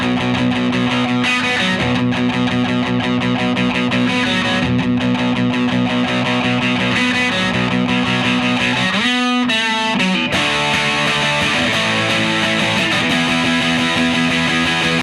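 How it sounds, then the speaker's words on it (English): Punk electric guitar with heavy distortion chugs through a muted verse part, then breaks at a brief gap into loud, ringing chorus chords; dense and continuous throughout with no voices. "they're going to do this kind of mellow palm muted part to kind of cool things off so they can really hit it hard when they go to the chorus"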